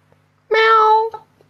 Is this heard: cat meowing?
yes